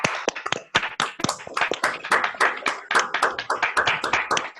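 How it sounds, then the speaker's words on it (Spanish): Audience applause for a speaker named Sandra at the close of a talk, a steady run of sharp claps from a modest crowd, close and clear, with no voices over it. "les pido un aplauso para Sandra, por favor"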